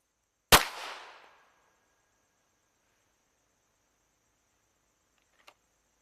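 A single gunshot fired during a timed shooting drill on a range: one sharp, loud crack with a short ringing decay, then quiet and a small faint click a few seconds later.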